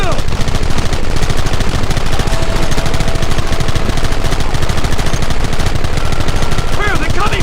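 Dense, loud gunfire in a Red Dead Redemption shootout, rifles and repeated shots crackling without pause from near and far, with shouting voices mixed in.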